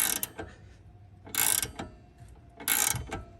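Ratchet wrench cranking out a pinch bolt on an Audi B8 front control arm, with two bursts of loud rapid clicking separated by quieter pauses and faint mechanical rattles.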